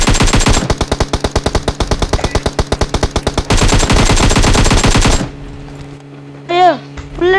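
Automatic gunfire in PUBG Mobile: rapid, loud bursts of repeated shots for about five seconds, followed by a brief lull and a couple of short rising electronic sweeps.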